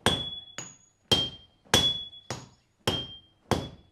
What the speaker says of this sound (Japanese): 適温になったら取り出し、金敷の上に置き、大槌と小槌で打ち伸ばしていく。